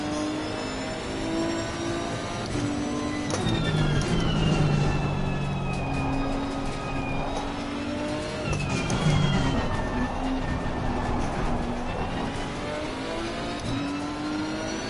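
A Nissan GT-R race car in Assetto Corsa Competizione at Silverstone on PS4, its engine revving loudly and steadily through repeated upshifts and downshifts, the pitch climbing and dropping with each gear change, without speech.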